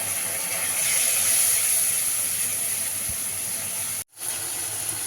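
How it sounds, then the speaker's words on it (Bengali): A spice paste of chili powder, turmeric and salt sizzles with potatoes in a hot pan, part of a chital fish curry. It makes a loud, steady, close frying hiss that cuts out briefly near the end. "দিয়ে মশলাটা ভালো করে কষিয়ে দেবো।"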